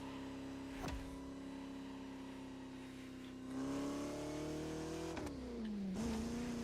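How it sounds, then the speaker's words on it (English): A Bugatti luxury car from the video game The Crew Motorfest drives with a steady, close engine drone that rises in pitch and swells louder as it accelerates, with a brief dip and surge near the end. "This is one of the Bugatti luxury vehicles, not the sports vehicles that they have."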